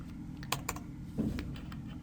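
Close keyboard typing as a short C program is entered on a computer, with scattered key clicks and a few sharper taps over a steady low hum, no voices.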